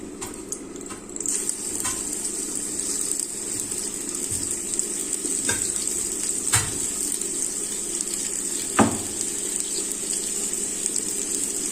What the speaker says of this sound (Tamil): இப்போ வந்து நல்லா கொஞ்சம் எண்ணெய் காயட்டும் நான் வந்து இஞ்சி இடித்து வச்சுருக்கேன் இந்த இஞ்சி எடுத்து அதில் போட்டுடணும்